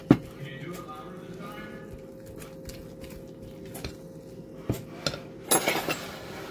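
Banana bread batter is folded in a bowl with a spoon, giving soft scraping and occasional clinks against the bowl, close and fairly quiet, ending in a short burst of louder clatter.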